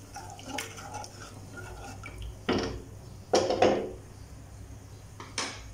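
Coconut milk and salt stirred together in a cooking pot for coconut milk rice, giving a few scraping, sloshing clinks of a spoon against metal at close range in a quiet kitchen, with no talking.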